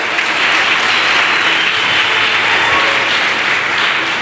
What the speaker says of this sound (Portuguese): Você pode aplaudi-lo bem forte por isso?